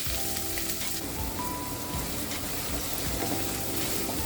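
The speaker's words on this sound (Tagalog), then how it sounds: "At isusunod na rin natin ang chinap nating mga sibuyas." Chopped onions sizzle loudly and continuously in a pan, with a dense, close crackling hiss that holds steady from start to end.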